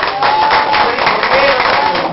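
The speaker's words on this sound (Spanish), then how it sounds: "Por favor, un aplauso para mí." Guests applauding at a golden wedding anniversary celebration, a dense patter of clapping from a gathered crowd, steady throughout the short stretch with a voice faintly audible beneath.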